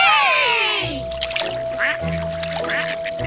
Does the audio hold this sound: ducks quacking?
yes